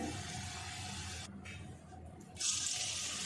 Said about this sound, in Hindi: घी हमारा गर्म हो गया, मैंने 1 पकौड़ा डाल के देखा है।